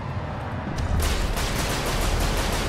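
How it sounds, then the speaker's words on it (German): Gunfire in the Star Citizen first-person shooter mode during an assault on Kareah, a dense burst of rapid shots that starts abruptly and continues loud and close for the rest of the moment, with no talk over it. "Schüsse, Schüsse, Schüsse!"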